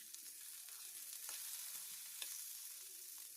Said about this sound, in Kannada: ಕರಿಬೇವು ಮತ್ತು ಟೊಮೊಟೊ ಹಣ್ಣು ಸ್ವಲ್ಪ ಸಾಫ್ಟ್ ಆಗೋ ತನಕ ಫ್ರೈ ಮಾಡ್ಕೊಳ್ಳಿ.